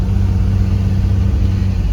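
A 1970 Mercedes 280SL Pagoda's engine drones loudly and steadily as the car accelerates along a road, heard from inside with a strong low rumble.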